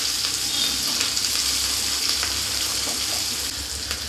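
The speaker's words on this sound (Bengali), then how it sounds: "এগুলোকে ভালো করে নাড়াচাড়া করে মিশিয়ে নেব" Capsicum sizzles and crackles in a hot pan while being stirred, a close, steady frying hiss with occasional scraping bursts and no voices.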